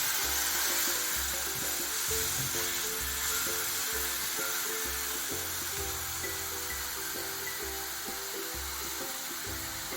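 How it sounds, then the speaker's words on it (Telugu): Ginger-garlic paste frying in a pan for a potato-onion curry, giving a steady bright sizzling hiss throughout, with a low rhythmic thumping beat underneath. "ఈ అల్లం వెల్లుల్లి ముద్ద వేసుకుందాం. ఇది పూర్తిగా పచ్చివాసన పోయేదాకా వేయించుకోవాలి."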